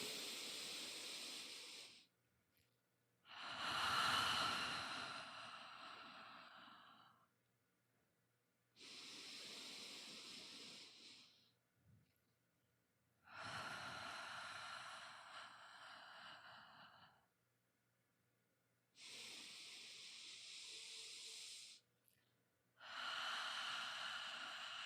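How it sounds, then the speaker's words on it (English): Slow, deep breaths, each a long airy inhale or exhale separated by short silences, repeated in a steady calm rhythm, close and alone with no talk. "So let's take 3 deep breaths together."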